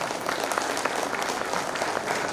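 A seated audience in Aleru applauds a visiting singer, producing a dense, even roll of many hands clapping together that continues steadily, fairly distant and uniform, for a couple of seconds.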